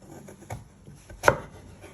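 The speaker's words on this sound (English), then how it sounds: "And then you want to chop it in half again, just like that." A knife chops through butternut squash on a board: a few soft cuts, then one sharp loud chop near the end, close by with no talking.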